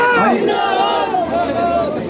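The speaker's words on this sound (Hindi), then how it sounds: "बहुत एक बार ताली बजाकर स्वागत करते हैं सचिन जी का हमारी इस पावन भूमि पर पधारने पर।" A large crowd at a political rally welcoming Sachin Pilot in Haryana roars and cheers loudly and close by, a dense wash of voices that swells and then slowly eases.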